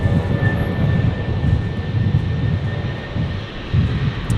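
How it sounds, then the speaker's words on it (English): Jetstar A320 airliner taxiing at Brisbane airport, a low rumbling jet engine drone at close-to-moderate range with a faint steady whine, swelling and easing slightly as it moves. "Let's have a look at this Jetstar 320 on the move."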